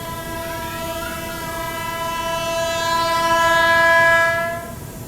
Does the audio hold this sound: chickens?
no